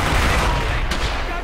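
Dense, continuous gunfire from the World War II video game Brothers In Arms Hell's Highway, a steady loud fusillade with no clear gaps across the short stretch.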